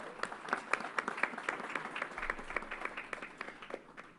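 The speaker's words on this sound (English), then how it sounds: "Let's give her a round of applause." An audience at a governor's announcement at Yankee Stadium applauds, with dense, scattered clapping at moderate volume holding steady for the whole stretch, with a faint murmur underneath.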